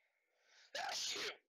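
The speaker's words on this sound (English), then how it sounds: "Sorry, I sneezed." A single close sneeze bursts out sharply after a short breathy intake, then cuts off.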